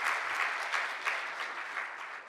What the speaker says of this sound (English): Can we give her a clap support?